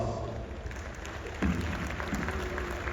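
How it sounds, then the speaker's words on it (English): Steady applause from an audience at a dairy cattle show, a continuous patter of many hands clapping at moderate volume. "Let's give all these exhibitors a round of applause."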